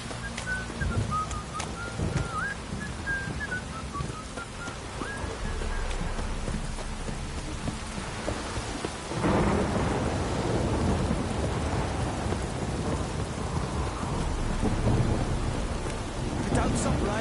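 Steady rain pours in The Witcher 3 on PS4, and a bird chirps faintly early on. Halfway through, thunder breaks into a long, heavy rumble that rolls on under the continuing downpour.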